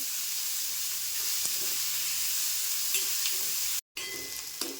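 Onions for a bitter gourd (karela) curry sauté in a pan with a steady hissing sizzle and a few soft stirring knocks, broken by one brief cut to silence; no voices.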